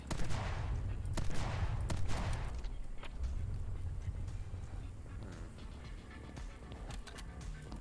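Rapid gunfire in the My Friend Pedro video game, with dense bursts of shots in the first few seconds that give way to quieter scattered fire over a low rumble.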